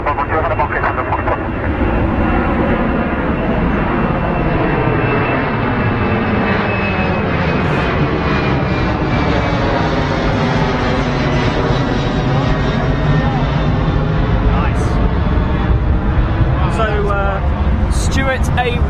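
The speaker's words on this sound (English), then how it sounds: "this is the old school 767 Air Canada. Old livery, old aircraft frame." Air Canada Boeing 767 in old livery at Heathrow Airport, its jet engines roaring loudly and steadily for the whole stretch, with a whine that slowly shifts in pitch as the aircraft passes.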